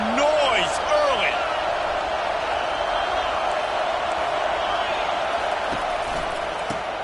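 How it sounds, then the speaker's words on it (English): Stadium crowd at a Clemson vs Miami football game, a loud steady roar of voices and cheering with scattered whoops and shouts throughout. "This crowd bringing the energy and noise early."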